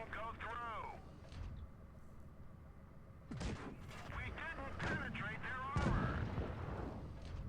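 Tank guns boom in World of Tanks Blitz with a Stug III G tank destroyer in a pitched fight. Several deep blasts stand out over engine rumble and game chatter, and a voice talks throughout.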